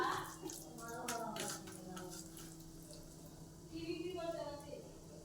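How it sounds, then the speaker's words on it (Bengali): Water runs over hands at a tap in a home kitchen, a soft splashing stream that rises and falls beneath a voice talking over it. "হাতটা ধুয়ে নি।"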